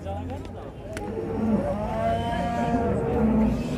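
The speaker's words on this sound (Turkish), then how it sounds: "burada da çok güzel bakılmış besili bir manda var" A water buffalo at a busy livestock market lows in drawn-out, tonal moos, close and prominent over a crowd murmur and general market bustle.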